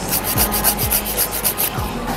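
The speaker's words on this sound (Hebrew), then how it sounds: "אני עוברת לפצירות, ככה פצירה קצת יותר חזקה" A coarse nail file rasps back and forth across a fingernail during nail art, giving a steady series of close, scratchy strokes at an even rhythm, with no voices.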